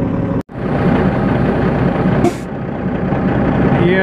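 A red Peterbilt truck engine runs loud and close, a steady heavy diesel rumble that holds throughout after a brief cutout near the start, with a short hiss of air partway through.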